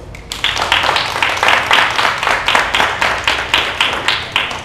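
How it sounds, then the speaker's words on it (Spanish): Steady applause from a group, rhythmic claps merging into a continuous patter that carries on throughout without talk. "Bueno, aplauso."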